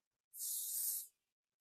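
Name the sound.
hair protectant spray being sprayed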